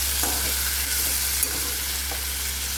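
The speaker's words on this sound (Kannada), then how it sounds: "ಈಗ ಇದು ಎಣ್ಣೆಗೆ ಚಲೋ ತಾಳಿಸ್ಕೋಬೇಕು." Green chili paste fries in hot oil with a dense, continuous sizzle. Soft scraping from stirring runs through it, close up and steady, with no voices.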